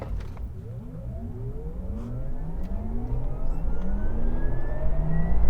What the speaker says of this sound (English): 2021 Porsche Taycan rear-wheel drive. With launch control.